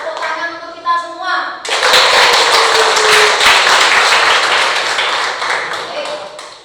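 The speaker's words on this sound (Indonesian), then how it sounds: "Tepuk tangan untuk kita semua." Classroom applause from students bursts in after a brief stretch of speech, with dense, steady hand clapping filling the rest of the moment before tapering slightly at the end.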